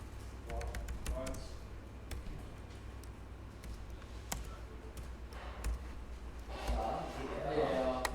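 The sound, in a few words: typing on a computer keyboard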